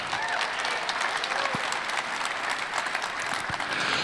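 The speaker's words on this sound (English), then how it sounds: "Let's give this Charger a round of applause" A crowd at the Barrett-Jackson Scottsdale auction applauds a 1968 Dodge Charger: steady, dense clapping from many hands that stays loud and even throughout, with no speech over it.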